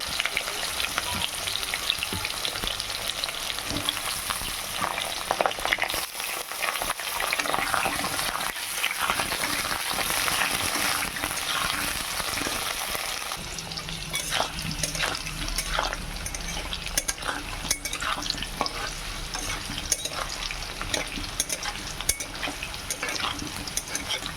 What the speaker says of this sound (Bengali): এদিকে কড়াই তেল গরম হয়ে গেছে আলুগুলোকে ভেজে নেব